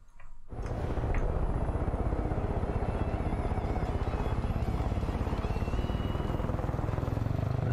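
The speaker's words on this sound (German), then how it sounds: "2000 Meter ist ja gar nichts mit dem Helikopter" A helicopter in the video game Far Cry 5 spins up from a short start and settles into a loud, steady rotor chop with a rapid rhythmic beat that holds evenly throughout, with no talk over it.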